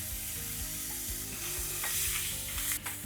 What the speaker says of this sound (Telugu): ఎగ్స్ని ఇందులో ఫ్రై చేయాలి ఈ మసాలాలో ఎగ్స్ మంచిగా వేగాలి